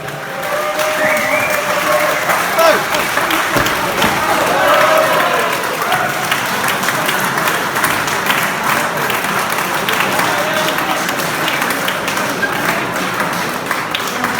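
Loud sustained audience applause for a band at a live music venue, dense clapping with thumps and crowd noise, voices audible beneath.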